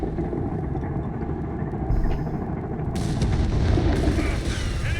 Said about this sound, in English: the 6 pounder gun is returning fire here on this Sturmgeschütze